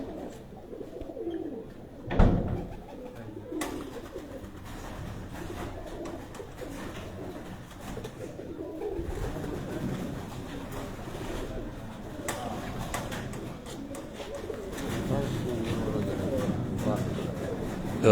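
Soft pigeon cooing mixed with low background murmur and rustling, with a brief louder thump partway through; people speak intermittently nearby.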